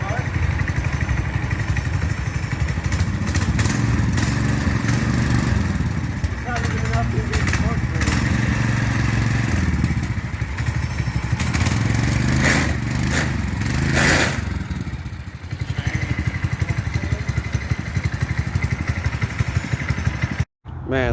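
A small engine, fitted with a new clutch, torque converter and chain, runs close by with a steady, rattling mid-pitched drone and some clattering. A person talks over it throughout.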